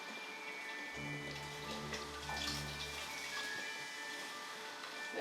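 Ginger beer pours straight into a heated pan, a soft, steady splashing stream with light fizzing that lasts a few seconds, quiet and close.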